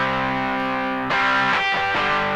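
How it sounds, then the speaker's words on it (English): Electric guitar driven through a Boss DS-1 distortion pedal, sustained chords ringing loud and saturated, with a fresh strum about halfway and brief choked, stuttering notes near the end; no voices. "How to go from sterile cleans to just some outrageous, yes sir, some outrageous distortion from the Boss DS-1."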